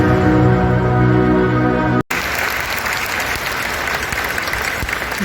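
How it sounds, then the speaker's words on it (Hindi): Loud, dense applause from a large audience at the inauguration of Amrita Hospital, following music that cuts off abruptly, then steady clapping filling the rest of the moment. "आपके हाथ की करतल ध्वनि ने इस पूरे वातावरण को स्पंदित कर दिया"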